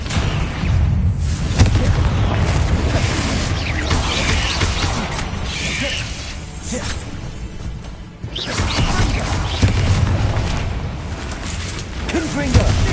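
Confringo blasting spells explode repeatedly in the video game Hogwarts Legacy, with heavy booming blasts merging into a loud, dense wash of combat noise that barely lets up.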